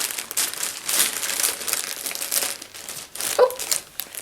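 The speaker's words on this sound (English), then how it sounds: "Just excuse crinkling again." Yarn packaging is crinkled by hand at a yarn retreat, a close and fairly loud run of repeated plastic crackles that continues throughout.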